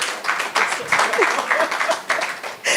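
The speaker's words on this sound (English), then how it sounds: "please give her a round of applause" Applause from an audience at a summit gathering, a dense, steady patter of many hands that holds for the whole stretch with a fresh surge near the end, a voice faintly mixed underneath.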